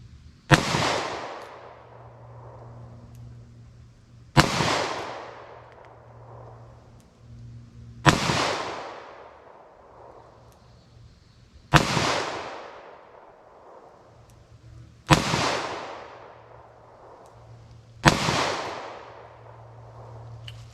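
Six sharp gunshots from a .38 Special +P revolver with a 3-inch barrel, fired at a steady pace roughly every three to four seconds, each loud crack followed by a brief ringing decay over a low background hum.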